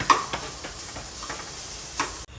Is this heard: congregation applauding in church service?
no